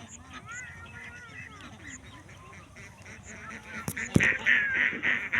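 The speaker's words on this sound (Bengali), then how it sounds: "এগুলো সব হাঁসা" Village ducks honking and quacking nearby, sparse calls at first building into a louder, busier chorus toward the end, with a sharp knock partway through.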